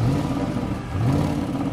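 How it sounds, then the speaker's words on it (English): A 2020 Audi RS7 Sportback engine starting up with a low, steady burble that swells slightly in the middle, close by and fairly loud. "let's press the button and start up the engine. Listen to that burbling into life."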